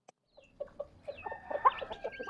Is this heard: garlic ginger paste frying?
no